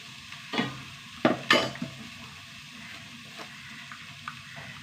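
Turmeric, chili and asafoetida powders frying in a pan: a soft, steady sizzle with a few scraping stir strokes and light utensil clinks, close and without talking.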